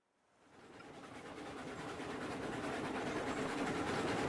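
A train in the Railroads Online video game, a rumbling rolling roar that swells in from silence and grows steadily louder and closer, alone without talk.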